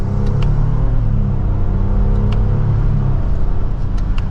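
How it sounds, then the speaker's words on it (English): A 2024 Lexus GX550 Overtrail's twin-turbo V6 pulls steadily from second gear in a mild acceleration, a continuous deep engine rumble and exhaust note with road noise, steady and close throughout. "Twin turbo V6 has a good exhaust note to it"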